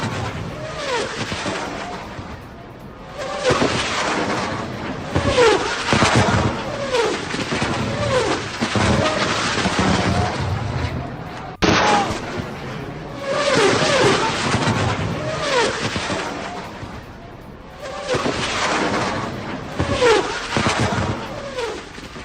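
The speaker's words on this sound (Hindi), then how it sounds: "आसमान में रॉकेट छोड़ा गया और उसके बाद देखिए पूरे निशान रॉकेट के दिख रहे हैं।" Rockets launched into the sky during a Hezbollah attack across the Lebanon border: a continuous loud roar with repeated rushing whooshes and booms, recorded in news footage.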